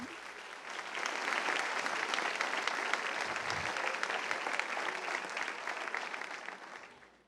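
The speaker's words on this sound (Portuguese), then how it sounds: "Se vai aplaudir, aplauda forte." A church congregation at a Quadrangular service applauds in a steady, dense burst of many hands lasting about seven seconds, moderately distant and fading out at the end.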